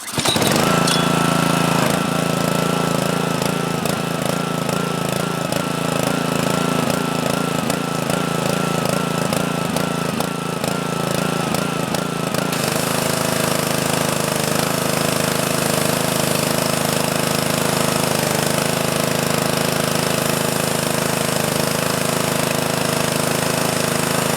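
A Troy-Bilt pressure washer with a Honda GC160 engine runs steadily and loudly close by, its small-engine drone continuous throughout, with a rougher, pulsing stretch early on before it settles into a smoother hum.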